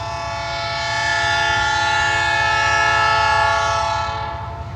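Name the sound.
train climbing grade with horn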